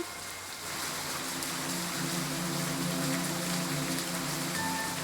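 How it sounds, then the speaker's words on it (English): Steady rain falls at night beside an old station, a continuous even hiss of drops with no voices over it. "It was raining and she didn't have an umbrella."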